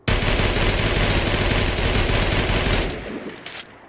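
An Enfield MP-45 .45 machine pistol with an 80-round drum magazine fires one long, rapid, loud burst for about three seconds in Fallout 4. The burst cuts off sharply, followed by a few faint clicks and settling sounds.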